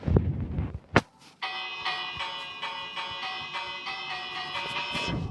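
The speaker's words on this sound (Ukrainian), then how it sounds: "Мій дзвін дзвінко лунає." A bell in a village survival video game rings out with a sustained metallic resonant tone and repeated strikes, loud and close, after a brief thump at the start.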